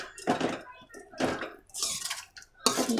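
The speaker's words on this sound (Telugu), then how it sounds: "మనం ఈ విధంగా మొత్తం అది ఆయిల్ బయటికి వచ్చేంత వరకు కలుపుతూనే ఉండాలి దీన్ని" Yogurt curry stirred in a pan for a restaurant-style okra curry, with spoon scrapes and clinks against the metal coming in bursts, and a voice speaking in between.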